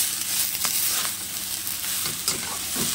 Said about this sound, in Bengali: এবার পাতাটাকে ভালো করে ভেজে নেব